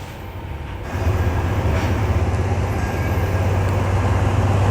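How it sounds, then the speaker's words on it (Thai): A passenger train pulling out of Nong Khai station, Thailand, on the cross-border service to Thanaleng, Laos; a loud, steady low rumble and mechanical clatter that swells after the first second and carries on continuously, heard from on board. "ได้เวลาขบวนรถออกสถานีหนองคายนะฮะ"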